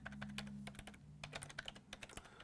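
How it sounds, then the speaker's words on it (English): Typing on a computer keyboard while entering a ping command at a command line: a rapid, uneven run of crisp key clicks, close and clear, with a low steady hum underneath and no talking. "I'm just typing ping and then some arbitrary website"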